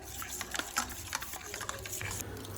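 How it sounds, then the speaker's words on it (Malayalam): A spoon stirs Kashmiri chili powder, salt and water into a paste, giving faint, quick wet scraping and clicking taps in a short bursty rhythm. "2 table spoon Kashmiri chilli powder, കുറച്ച് സോൾട്ട് ആൻഡ് വാട്ടർ ആഡ് ചെയ്തിട്ട് നന്നായിട്ട് മിക്സ് ചെയ്ത് കൊടുക്കുന്നുണ്ട്"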